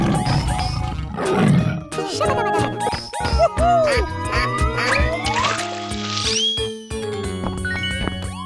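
A tiger in a 3D animal slide video game roars amid a busy jumble of other game effects, including splashy and jingling noises and sweeping tones, loud and cluttered throughout.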